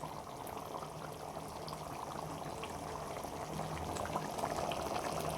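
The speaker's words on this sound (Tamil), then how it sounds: "அது நல்லா கொதித்து வேகணும்." Steady bubbling of lentil-dumpling curry in a pot at a rolling boil, a continuous close simmering hiss with small pops throughout, no voices.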